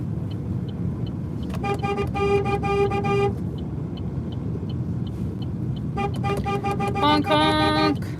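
Car horns honk at a roadside protest between Moose Jaw and Regina, with several clear toots in two clusters over steady traffic rumble, the second burst denser and more layered.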